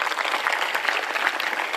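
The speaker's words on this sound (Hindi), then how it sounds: "जब हमें एक बार ताली बजाओ।" An audience bursts into applause, a thick, continuous wash of many hands clapping evenly for the whole moment, fairly close and loud, with no talking on top.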